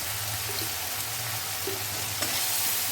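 Vegetables sautéing in a pan for a Bengali bottle gourd and lentil dumpling curry, with a steady broadband sizzle throughout, close and moderately loud, and a few soft stirring clinks.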